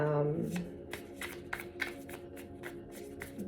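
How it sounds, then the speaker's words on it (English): Tarot cards are riffled and shuffled in quick repeated bursts, close and crisp, following a brief voice at the start. "People tell me that I shuffle too much"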